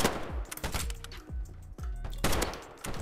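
Rapid bursts of AUG rifle fire in a first-person shooter game, sharp close shots in quick clusters with short pauses between.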